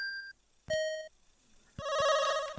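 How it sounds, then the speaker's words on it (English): A phone rings with short electronic tones, one brief beep, a second, then a longer sustained ringtone burst, clear and close against a quiet background. "And my phone is blowing up."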